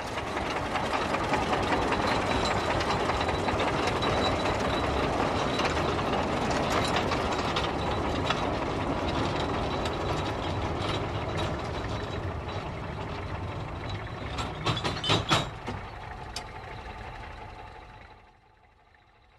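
An excavator coupled to a train of clay wagons on a Czech field railway, pulling them along with a steady loud mechanical clatter and rattling, sharp metallic clanks near the end before the noise drops away.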